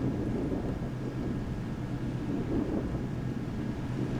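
Continuous low rumbling wind buffeting the microphone, steady and fairly loud with no voices.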